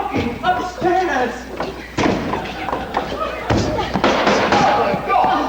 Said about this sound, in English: Knocking upstairs!